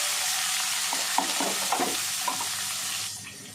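Curry leaves, carrot, beans, tomato, onion and green chilli sauté in oil in a pan with a steady loud sizzle, while a spoon scrapes and stirs several times before the hiss drops slightly.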